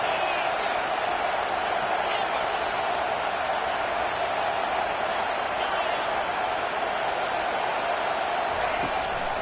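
Stadium crowd at a football game on a third-and-long defensive down, a steady, loud wash of cheering and roar that holds without a break from start to finish.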